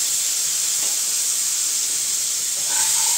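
A paste of onion, garlic, ginger and green chilli hits lightly fried potatoes in a pan, producing a loud, steady steamy hiss. A faint tone creeps in near the end, and no one speaks.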